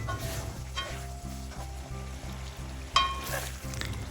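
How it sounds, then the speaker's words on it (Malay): Pineapple jam bubbles and sizzles softly in a pot while it is stirred, a quiet, continuous cooking noise over a low steady hum, with one brief clink near the end. "semasa menunggu bahan kita tu mendidih, kita perlu jugalah kacau-kacau"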